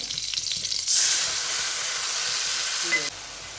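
Spices for a hilsa curry temper in hot oil, swelling into a loud, steady sizzling hiss that holds for about two seconds and then drops off sharply.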